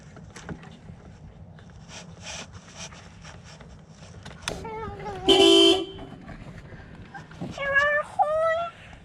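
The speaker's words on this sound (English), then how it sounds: "Yes, I heard the horn." A car horn honks outdoors during a roadside repair on a crashed Honda CR-V, sounding in two loud bursts, the second wavering, over clinks of tools and background murmur.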